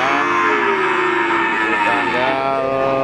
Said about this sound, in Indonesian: Masih di sapi-sapi bibitan atau sapi petet dari Pasar Sapi Paingan Gunung Kidul.